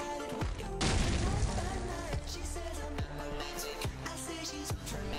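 A grenade detonating in the shooter game Counter-Strike, a sudden booming blast about one second in followed by scattered shots and impacts from the match.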